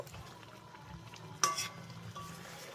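Chopped coriander leaves being stirred into eggplant cooking in a pan, a soft continuous scraping and gentle sizzle with one sharper clink of the spoon midway, close and fairly quiet.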